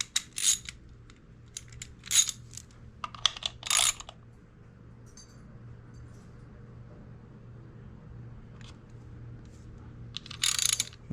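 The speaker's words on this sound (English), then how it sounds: "I'm gonna come back around with the wrench and get them good and tight" Bolts on a GB Racing engine cover for a Yamaha R3 being tightened with a wrench: a few short, sharp metallic clicks close by, spaced several seconds apart over a quiet background.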